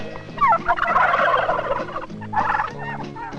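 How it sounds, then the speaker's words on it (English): A turkey gobbles in loud, rattling bursts, a long warbling call followed by shorter gobbles, close by with no talking. "Turkeys."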